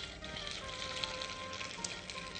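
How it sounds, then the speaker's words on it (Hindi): Chicken pieces fry in hot oil with a continuous, even crackling sizzle that holds steady throughout, no voices on top. "तो हमारे तेल गर्म हो चुका है, आइए इसमें चिकन के जो पीस है वो फ्राई कर देते हैं।"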